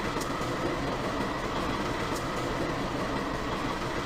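A train runs steadily along an elevated rail line above green open ground, giving a continuous, moderately distant rumble without distinct breaks or voices.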